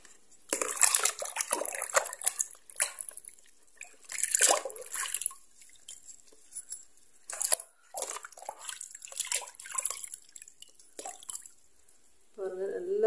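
Cleaned copper and brass pooja items rinsed under water: splashing and dripping in bursts with clanks of metal against metal, close by, pauses between rinses and a brief vessel ring near the end.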